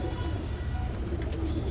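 Old-line pigeons kept for sale, male and female birds together, giving low cooing over a steady, dense background murmur, with no talking.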